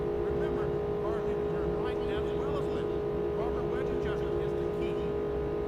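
Race car engines in a racing video game, a steady loud droning roar with shifting whines over a constant hum, while a voice talks over it.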